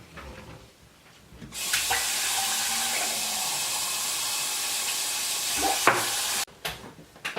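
A kitchen or bathroom tap gushes steadily for about five seconds, a loud, even hiss of running water that stops abruptly, with quieter room sounds before and after.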